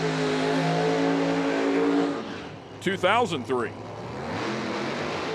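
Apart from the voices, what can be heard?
drag racing car revving during burnout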